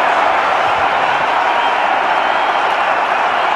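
Home crowd at an India vs Pakistan one-day international cricket match roaring after Shoaib Akhtar bowls Rahul Dravid, a dense, loud, continuous wash of cheering and clapping.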